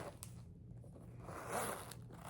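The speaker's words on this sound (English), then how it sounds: "Nice zipper" A Coach bag's zipper slides open in one smooth, quiet rasp, close and soft with no talking.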